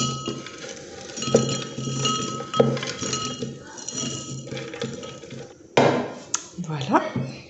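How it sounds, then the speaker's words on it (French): Dry granola clinks and rattles as it is poured into an airtight glass jar, a run of small hard taps and scattering bits with a few louder knocks against the container. "Donc je viens verser"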